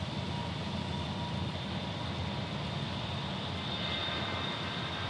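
An aircraft engine roars steadily at Dallas Love Field during a takeoff run, a constant broadband rumble and whine heard from a distance without talk.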